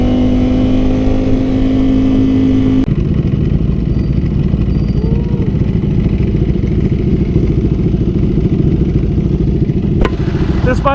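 A Ducati Panigale sports motorcycle engine, a close, loud, steady mechanical rumble with a brief tonal whine at the start and sharp clatter near the end.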